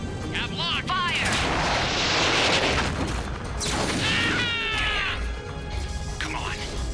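Mech weapons firing in the video game MechWarrior 3, loud rumbling blasts and whooshing bursts packed closely together, with electronic chirps and in-game voices over the barrage.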